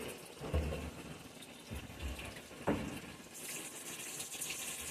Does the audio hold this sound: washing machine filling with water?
yes